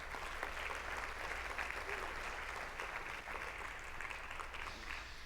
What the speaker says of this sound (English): I think we can give you a round of applause to the hosts for a wonderful job done